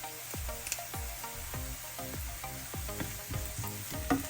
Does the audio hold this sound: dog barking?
no